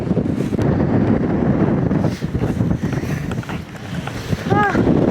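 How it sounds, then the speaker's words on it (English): Strong wind buffets the microphone in a continuous loud roar with gusting surges, and a brief high call cuts through near the end. "It's too windy here."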